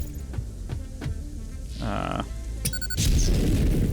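An explosive blows up rocks in the video game Satisfactory, with a loud, broad, rumbling blast toward the end after a few softer thuds and mechanical hums.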